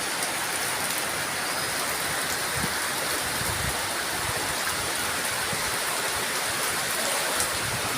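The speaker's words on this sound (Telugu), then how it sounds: "హాయ్ గైస్, వర్షం బాగా పడుతుంది." Heavy storm rain pours down steadily, a dense, loud hiss of drops on surfaces with no letup.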